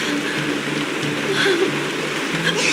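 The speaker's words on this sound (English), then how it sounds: "It's raining!" Rain falling in the video game Honkai Star Rail, a steady hiss of rainfall with faint tonal music underneath and no speech.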